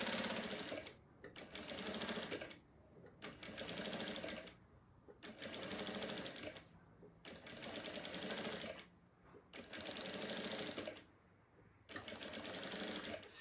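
Sewing machine running a straight seam on a round sublimated fabric case, steady rapid stitching in six evenly spaced bursts with brief quiet gaps, close and fairly soft.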